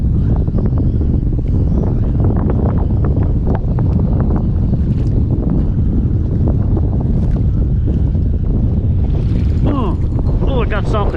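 A strong 40-mile-an-hour wind hits a kayak at sea, roaring and buffeting the microphone without a break, with faint water sounds and a brief voice-like tone near the end.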